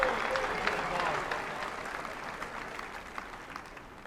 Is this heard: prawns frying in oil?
no